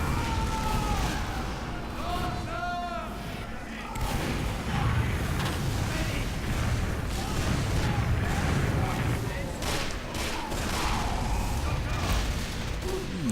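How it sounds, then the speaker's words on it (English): Team Fortress 2 combat on Dustbowl, a dense wash of gunfire, rocket blasts and explosions from the game running under a talking commentator's voice. "You don't often see spies actually shooting revolvers that caliber."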